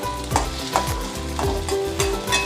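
Oil sizzles steadily as garlic and curry leaves fry in a pan, with a few soft stirring scrapes; no one talks.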